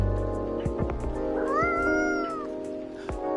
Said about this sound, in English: I like you can actually hear the cat meow.